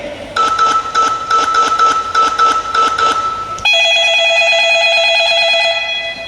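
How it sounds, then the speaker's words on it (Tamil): A telephone is dialed on stage during a Tamil school annual-day drama: a steady run of loud keypad tones, then an electronic ringing tone that carries through to the end. "இது நான் ஒரு ஸ்கூலுக்கு ஃபோன் பண்ணி கேட்குறேன்."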